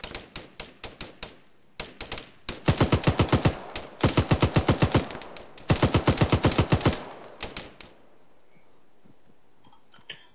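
Gunfire in Arma 3: rapid, loud bursts of automatic fire in several rhythmic strings with brief pauses between them, ending in quieter scattered sounds, and no voices.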